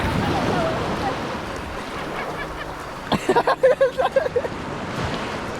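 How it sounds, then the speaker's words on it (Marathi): Sea waves wash steadily onto the empty shore of Bhogwe beach at Malvan in Konkan, a broad continuous roar, with a brief burst of rhythmic voices or honking partway through. "समुद्राच्या वाहणाऱ्या लाटांचा आवाज या किनाऱ्यावर फक्त ऐकू येतोय"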